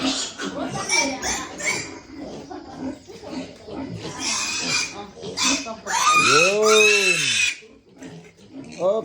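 Month-old piglets, nine of them separated from the sow, grunt and squeal near the listener, with a loud rising and falling squeal near the end and people talking over the noise.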